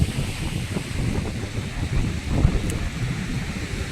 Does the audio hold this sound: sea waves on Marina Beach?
yes